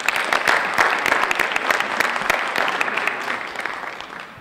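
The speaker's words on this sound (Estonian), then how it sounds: "Taavi, teeme ühe korraliku aplausiga." Applause from a conference audience for a speaker at an annual road traffic administration conference, a dense, steady burst of many hands clapping that fades slightly toward the end.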